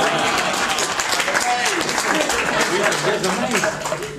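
Audience applause after a guessing trick with a volunteer named Jack, a steady dense clapping wash lasting throughout, with voices talking over it.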